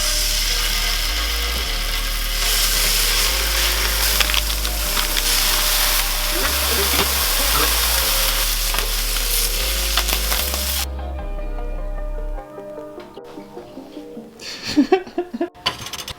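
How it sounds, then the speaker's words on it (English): Canadian bacon sears in a hot pan, a loud, steady sizzle that fills the first part and then cuts off sharply, leaving a few quieter scattered clinks and rustles. "I'm gonna sear the Canadian bacon."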